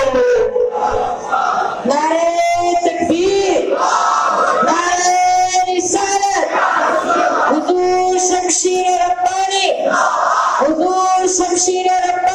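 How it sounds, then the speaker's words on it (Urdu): A large crowd at a religious gathering in Anantapur roars back in unison in a call-and-response chant, with loud, dense, sustained shouting that rises in repeated surges throughout. "مرشد خوش دل نعرہ تکبیر"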